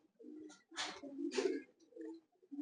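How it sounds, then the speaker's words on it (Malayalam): A pigeon coos in low, throaty bursts, several calls in close succession with short pauses between them, heard near and fairly clear. "ഇത് സുരട പ്രാവാണ്."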